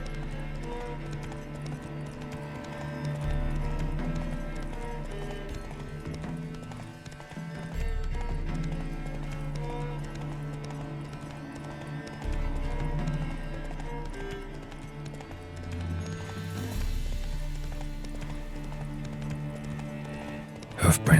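Horse hooves clip-clop at a steady walking pace in The Witcher 3, running continuously under background game music and ambience, with an occasional snort.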